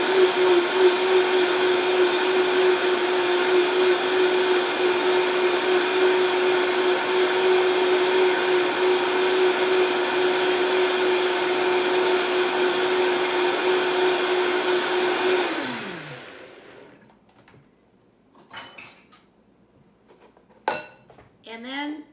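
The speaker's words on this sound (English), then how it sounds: "So I'm going to blend that up." Countertop blender whirring through chili cheese sauce ingredients with nutritional yeast, a loud steady motor whine that winds down after about fifteen seconds, followed by a few clinks.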